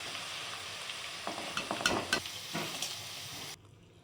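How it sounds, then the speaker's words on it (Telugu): Broad beans fry in hot oil in a pot with a steady, dense sizzle and several brief stirring clatters, close by, before the sound drops away abruptly. "గిన్నె పెట్టుకొని ఆయిల్ వేసుకొని చిక్కుడుకాయలు ఫ్రై చేసుకుంటున్నా అండి"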